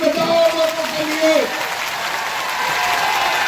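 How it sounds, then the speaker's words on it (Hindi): Clapping rises from a crowd at an outdoor political rally in Assam, steady but moderate, with a voice speaking over it at the start before the applause carries on alone. "जरा जोर से ताली बजाओ दोनों के लिए।"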